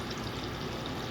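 Water rushes steadily from a drinking fountain bottle-filling station right after its filter is replaced, a constant close pouring hiss with no voices.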